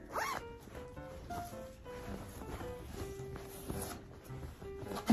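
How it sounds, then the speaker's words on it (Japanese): A zipper on a SHEIN garment is run open and closed in short, close ratcheting pulls, with some cloth rustle and light handling noise around it. "なんかシーインさんって後ろにファスナーとかボタン多いよね"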